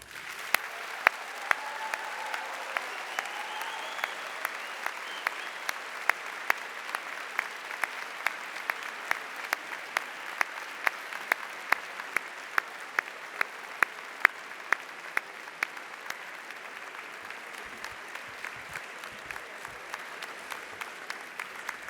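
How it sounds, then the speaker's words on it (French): A graduation ceremony audience gives the graduates' parents a long, steady round of applause, dense clapping from a large hall crowd that holds strong for about twenty seconds before thinning slightly. "Je voudrais qu'on fasse un tonnerre d'applaudissements à vos parents."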